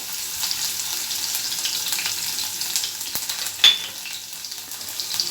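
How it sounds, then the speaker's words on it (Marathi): Cumin seeds, curry leaves and crushed garlic crackle and sizzle in hot oil, a steady busy frying hiss with a sharper pop near the end, heard alone and close up. "जिरी टाकून घ्यायची जिरी छान तडतडली की कढीपत्ता टाकायचा आहे आपल्याला"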